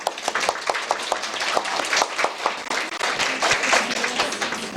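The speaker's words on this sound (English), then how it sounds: "Let's give a big round of applause again." An audience applauds presenters at a university graduation thesis presentation event, giving dense, steady clapping from many hands that stays strong throughout, with no talk over it.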